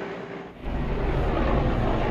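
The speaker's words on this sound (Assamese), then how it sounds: "এই হেলিকপ্টাৰখন আকৌ আহিছে" A helicopter flies overhead, circling the area, and after a brief dip its loud, steady rotor and engine roar fills the rest of the clip.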